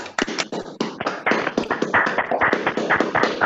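Applause breaks out for Gustavo at the close of his thesis defense, a steady patter of clapping hands from a small group, fairly close and continuous throughout.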